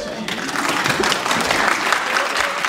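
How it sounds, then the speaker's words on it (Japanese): At an outdoor kagura performance of Rashomon at a firefly festival, the audience breaks into steady applause, a dense, even wash of clapping that holds for the whole moment with a little crowd murmur underneath. "拍手ありがとうございます"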